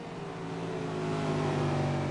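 A V8 Supercar engine in iRacing at Brands Hatch, a steady mid-pitched drone that swells slightly as it accelerates, with no voices.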